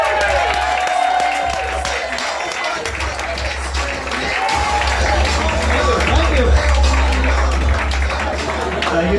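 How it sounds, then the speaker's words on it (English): Comedy roast crowd at a stand-up competition clapping and cheering for a comedian, a dense continuous wash of applause and whoops filling the room, loud and sustained with crowd babble mixed in. "Clap it up as loud as you can for Eli Sairs."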